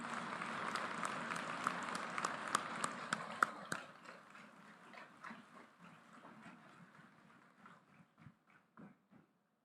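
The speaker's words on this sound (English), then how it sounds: "Huge round of applause for all the PhD graduates." A convocation hall audience applauds the PhD graduates, a moderate patter of clapping that thins and fades over several seconds into a few scattered, distant claps before silence.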